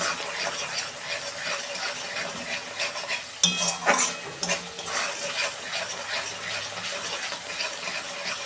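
Spices and jackfruit are stirred in sizzling oil, a continuous frying crackle broken by the scrape and clink of a spoon against the pan around the middle.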